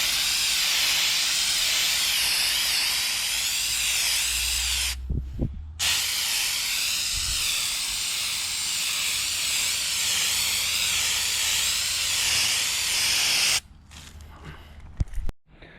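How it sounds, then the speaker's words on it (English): A can of Duplicolor Professional rubberized undercoat is sprayed during gas tank work on a 2003 Toyota Corolla. The aerosol gives a loud, steady hiss in two long bursts split by a brief pause, followed by a few short sputtering sprays at the end. "So I'm using the Duplicolor Professional Undercoat Sound Eliminator."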